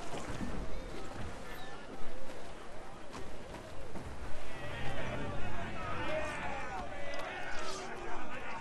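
A sailing ship in Assassin's Creed Freedom Cry gets under way, with rushing water, creaking and wind beneath almost constant voices and crew chatter.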